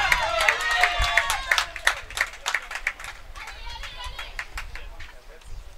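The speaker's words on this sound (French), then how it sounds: "On entend la foule s'animer constamment." A tennis crowd on the adjacent court during a final at a youth games event claps and stirs, heard as scattered bursts of applause and cheering at a moderate distance while a voice talks over it.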